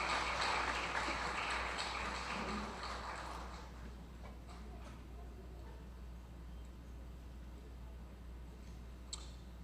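Audience clapping at a ceremony marking the international anti-corruption day, loud and dense at first, then thinning into scattered claps.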